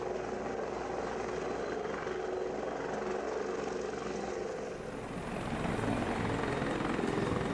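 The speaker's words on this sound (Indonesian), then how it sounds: "Helicopter." A helicopter's steady rotor thump and engine roar, loud and continuous throughout, with the rumble shifting slightly toward the end.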